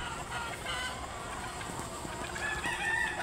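Chickens and roosters on a fighting-cock breeding farm, a dense chorus of clucking and crowing at mid distance, steady and busy throughout with no talk.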